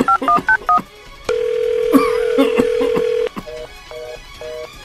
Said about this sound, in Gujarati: ફોન ના લાગ્યો રામજી બાપા.